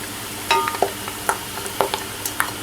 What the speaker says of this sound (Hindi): और इसको हल्का सा हमने सिर्फ फ्राई करना है।